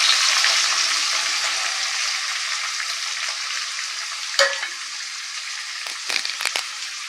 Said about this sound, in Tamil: சின்ன வெங்காயம் பெரிய வெங்காயம் நல்லா பொடிசாக கட் பண்ணி வச்சுருக்கேன் அதே இதில் சேர்த்துக்கிறேன்